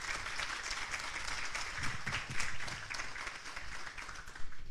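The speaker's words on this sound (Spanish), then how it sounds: "un aplauso" Audience applause at a Brilla por Guate awards event in Guatemala: a steady, even wash of many hands clapping at moderate distance, sustained throughout without any talk.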